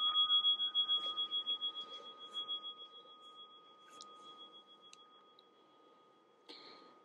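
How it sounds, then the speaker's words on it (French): A meditation timer set for two minutes during a yin yoga practice gives a clear electronic tone that sounds steadily, then fades, followed by a few faint clicks and a brief chime near the end, with no voices. "Donc je déclenche le chrono pendant 2 minutes."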